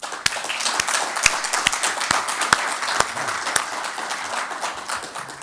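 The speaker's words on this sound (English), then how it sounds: "can I ask for a big applause for the panel?" Audience applause for a panel at a cyber security event, a steady wash of many hands clapping with a few sharp nearby claps standing out, sustained evenly throughout without talk.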